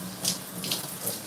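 A tap running water over a sink during hair rinsing, a steady close splashing flow with a few brighter spatters, no voices.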